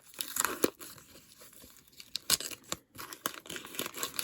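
Foil wrappers of Lego Ninjago Series 10 trading card packs crinkle and tear in bursts of sharp, close rustling, with brief pauses between handfuls.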